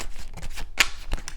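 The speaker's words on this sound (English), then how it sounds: "as I'm shuffling these cards" Tarot cards being shuffled by hand, a short run of soft papery riffles and flicks with one sharper snap near the middle, close and fairly quiet.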